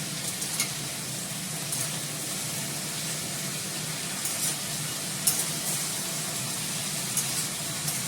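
Food frying in a pan makes a continuous, even sizzle at moderate volume, with occasional faint clicks and no voices.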